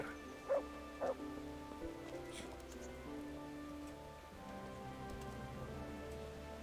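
Steady rain falls in the medieval video game Kingdom Come: Deliverance, a constant wash of hiss with a low game soundscape beneath, a couple of short sharp barks near the start and faint voice-like murmurs.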